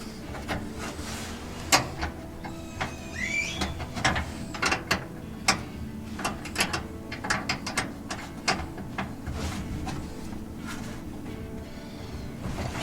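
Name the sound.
tightening parts on a 1955 Ford F100 truck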